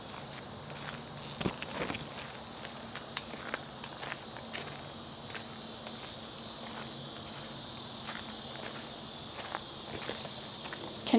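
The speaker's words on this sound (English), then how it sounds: "Can you hear the cicadas?" Outdoors on a woodland trail by a stone wall, cicadas or katydids keep up a constant high, shrill buzzing, with occasional footsteps and light rustling close by.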